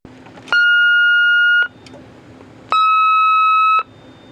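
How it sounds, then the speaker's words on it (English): A Vista 20 SE alarm panel powering up gives two long, loud, steady electronic beeps about a second each, separated by a pause, over a faint background hum. "Now we get to power up the alarm panel."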